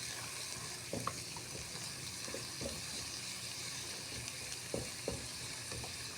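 A seafood dish fries in a pan while being stirred, giving a continuous hiss and sizzle with scattered scrapes and knocks of a spoon. Moderate level, no talking.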